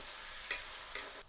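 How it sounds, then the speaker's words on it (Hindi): Thinly sliced potatoes fry in a pan with a steady, close sizzle, broken by two brief louder scraping stirs, with no voices. "ये तरफ अभी फ्राई होते आलू है मस्त पतला पतला"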